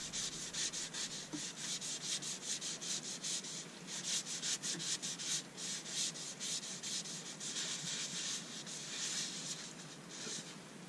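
Steady rhythmic rubbing of sanding sealer onto a spinning beech bowl on a lathe, a soft hissing friction repeating in quick strokes, close and fairly quiet.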